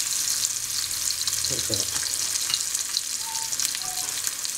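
Fish roasting crisp in a pan, a continuous close hissing fry with occasional stirring clatter, while a voice speaks briefly over it.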